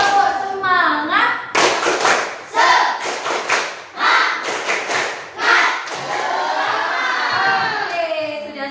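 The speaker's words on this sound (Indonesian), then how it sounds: "Kita tepuk semangat sama-sama." A classroom of students performs rhythmic 'tepuk semangat' group clapping in an Indonesian school lesson, loud bursts of patterned claps mixed with chanting voices, ending in sustained voices.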